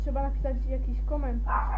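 A dog gives a few short, sharp barks and yips nearby indoors, overlapping someone talking.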